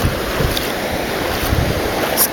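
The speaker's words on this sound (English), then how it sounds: "And the waves that come in" Ocean waves wash onto a warm-water beach at Montelimar, a continuous rushing surf with wind buffeting the microphone, close and fairly loud with no talking.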